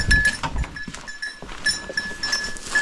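Goats and other farm animals bleat near a rural winter pen, with scattered calls and faint cowbell-like tones in the background, no talking.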